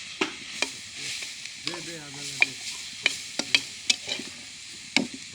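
Leafy greens (shak) fry in oil as a spatula stirs them, bringing a steady sizzle broken by sharp scraping clatters and knocks against the pan at an uneven pace, close by and with no talk.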